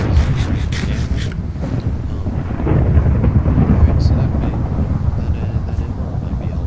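Thunder during a thunderstorm in the video game Minecraft, a loud rumbling roll with rain and wind noise, while someone talks briefly at the start.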